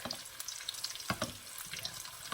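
Oil sizzles and crackles steadily around a chili relleno in a pan, a soft continuous frying hiss with scattered small pops, close and fairly quiet, with no voices.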